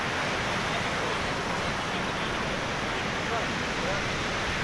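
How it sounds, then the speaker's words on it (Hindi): Ocean waves wash back down a beach in Goa, a continuous broad hiss of receding surf at moderate level with no pauses. "ये जाती हुई लहरें।"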